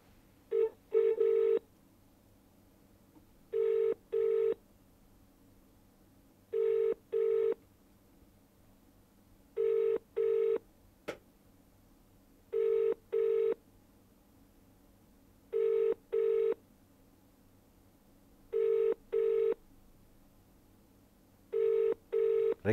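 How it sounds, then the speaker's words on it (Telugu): A ringback tone on a live phone call to a Karnataka number sounds in paired bursts about every three seconds, steady and clear against a faint hum, with no voices. "రింగ్ అవుతుంది"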